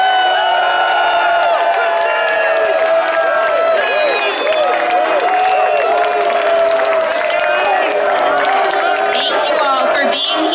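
A large, enthusiastic crowd cheers and applauds at the Forever Marilyn unveiling ceremony in downtown Palm Springs at night, with loud, sustained whoops and clapping and many voices mixed in throughout.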